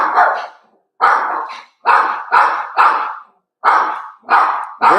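A dog barks loudly and close by in a string of sharp, deep barks, about eight in a row with short pauses between, with no one talking.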